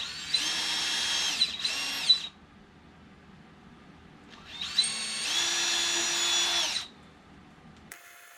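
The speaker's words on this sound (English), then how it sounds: "I'm going to pre-drill those brackets." A power drill whirs in two bursts while pre-drilling mounting brackets: a short pair of high-pitched spins, a pause, then a longer steady run that stops abruptly.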